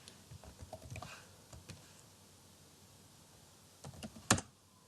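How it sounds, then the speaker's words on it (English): Typing on a computer keyboard while entering a Python function: quiet, irregular key clicks in short bursts, ending with a sharper, louder keystroke, with no talking. "then start typing this"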